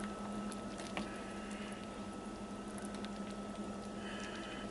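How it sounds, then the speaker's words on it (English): Baked beans and limp onions simmer gently in a slow cooker, giving a faint, steady bubbling with soft pops over a constant low hum. "It's bubbling away"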